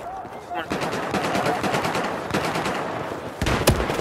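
Rapid gunfire from a shooter game, Battlefield 4, with shotgun play: loud sustained bursts of close shots crackle through most of the stretch, with a pause and then another hard volley near the end.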